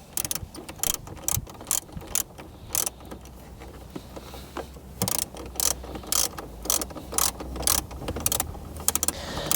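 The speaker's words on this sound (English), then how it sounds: "we're going to go ahead and tighten down those two 10mm bolts on each side" A socket wrench on an extension ratchets down 10mm bolts on a 2014-21 Lexus GX during a CarPlay conversion kit install, giving bursts of quick, close clicking strokes in steady repeated runs.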